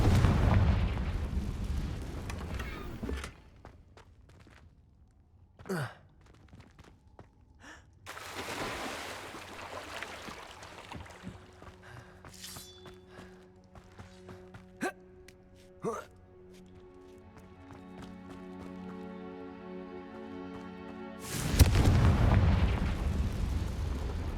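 Bombarda and Confringo spell blasts in the Hogwarts Legacy video game, a few heavy booming explosions with rumbling tails, separated by quieter stretches of tonal effects and a final loud blast.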